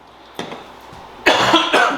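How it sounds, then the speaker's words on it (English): Close, loud coughing from a person making soy and coconut candles: one short cough, then a harsher double cough, with no talking. "I start talking and I'm gonna start coughing."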